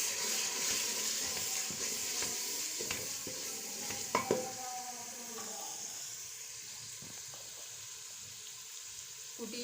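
Masala frying in a pan for dal mash sizzles steadily as water is stirred in, with a brief louder splash and scrape midway, close and continuous.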